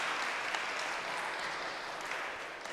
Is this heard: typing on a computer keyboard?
no